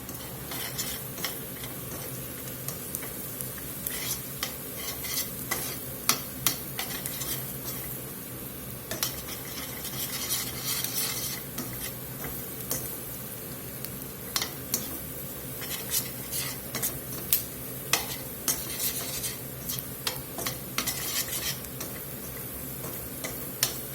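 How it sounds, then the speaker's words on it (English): Flour being stirred into softened onions in a pot to build a roux for poutine gravy, with steady scraping and light clinking of a utensil against the pan and a faint sizzle underneath, close and continuous. "Let's go ahead and start getting the flour in here."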